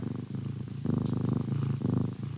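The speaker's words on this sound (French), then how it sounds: "Les ronronnements reprennent de plus belle." A cat purrs close and loud while curled on a lap, a deep rumbling vibration rising and falling in steady breathing cycles.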